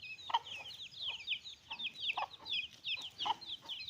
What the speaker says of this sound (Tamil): இந்த சாம்பல் கலரில் ஒரு கோழி இருக்குது பார்த்தீங்களா